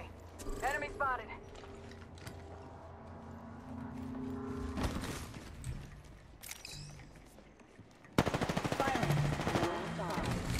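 Gunfire in the video game Apex Legends: rapid automatic bursts and sharp shots, some distant, then a loud close stream of fire at the end over game sounds.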